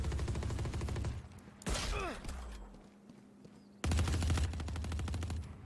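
Rapid automatic gunfire from the golden gun in a first-person shooter video game comes in two long, dense bursts close up. A whooshing, sweeping effect sits between the bursts.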